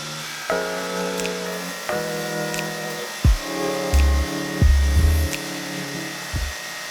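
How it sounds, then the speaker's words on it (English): A drum sander reflattens a wooden end grain cutting board: a steady motor whine with rising and falling harmonic tones, broken by several loud low thumps and grinding bursts as the board feeds through. "Once the board was dry, I brought it over to my drum sander and reflattened it."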